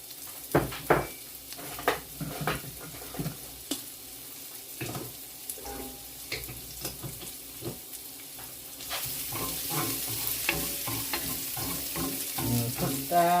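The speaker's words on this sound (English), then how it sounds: "And this time in goes the garlic and ginger." Garlic and ginger fry in a pan with a soft crackling sizzle, interrupted by clinks and scrapes of a spoon, the frying growing fuller and hissier toward the end; no one speaks.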